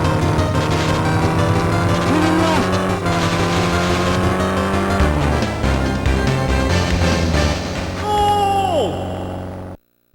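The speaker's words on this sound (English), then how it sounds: "Car sound effects use the Game Boy Advance sound capabilities though" Synthesized car engine sound effects from the Game Boy Advance rally racing game GT Advance 2: buzzy, steady engine drones with pitch shifts and sweeps as the car revs and shifts, loud and continuous, ending abruptly.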